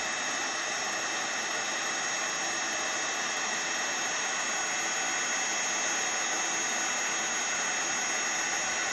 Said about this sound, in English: We are then going to take our heat gun and we're going to heat this up.